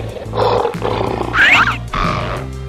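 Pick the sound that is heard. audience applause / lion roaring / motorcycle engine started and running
lion roaring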